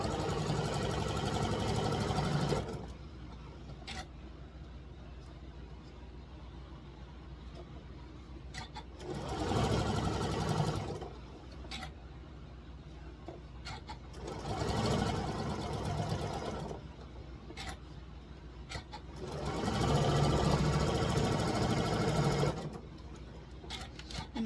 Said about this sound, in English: And I'll be sewing this towards that smaller, towards this small strip.